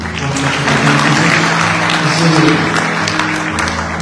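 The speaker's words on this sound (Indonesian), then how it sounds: "Tepuk tangan buat rombongan yang ikut kami" A church audience applauds the group accompanying the guest singer, dense steady clapping held at an even level for the whole stretch, with a low sustained hum running underneath.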